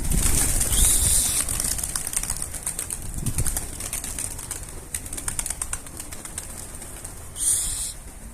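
Pigeons released from a coop, with loud flurries of flapping wings near the start and again near the end, and softer rustling and faint bird sounds in between.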